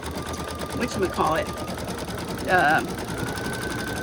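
Embroidery machine stitching a flip-flop design, a steady rapid mechanical whirring and clatter running throughout, with someone talking over it.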